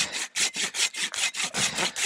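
A hand saw rasps through wood in steady back-and-forth strokes, about four per second, close and even.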